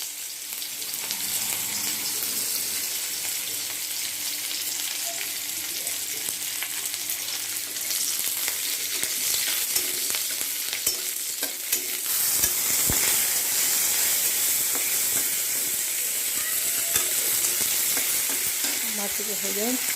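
Onion frying in hot mustard oil gives a steady, close sizzle for the whole stretch, swelling a little louder midway, with faint stirring clicks and no voices.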